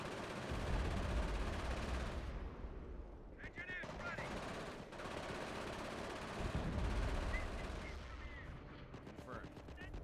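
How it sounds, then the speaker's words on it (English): Heavy machine gun fire in a war strategy game, rapid loud bursts of automatic shots layered with other gunfire and low rumbling across the whole stretch, pausing briefly between volleys. "There's some fucking heavy MG."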